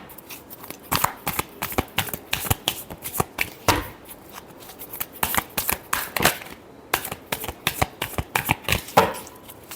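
Tarot cards are shuffled by hand in a steady series of crisp riffling slaps and flutters, close and clear, repeated rhythmically throughout with no talk.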